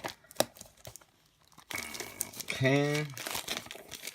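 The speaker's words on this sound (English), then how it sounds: "I'm really messing up the box every time I'm ripping off the plastic" Thin plastic wrapping is torn and crinkled off a small mystery mini figure box, a brief close ripping and rustling that follows a quick spoken word.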